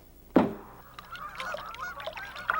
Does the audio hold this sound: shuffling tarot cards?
no